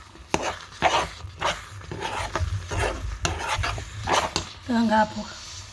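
Grated coconut goes into a pot of cooking lentils with sugar and is stirred, giving repeated scraping, swishing stirs close by, with a brief tonal squeak or voice-like sound near the end.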